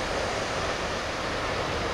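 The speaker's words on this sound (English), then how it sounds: "It's obviously a twin falls, and it's one of the highest in Laos." The Tad Fane twin waterfall in Laos roars as a steady, broad rush of falling water, continuous and fairly loud, with no other sounds.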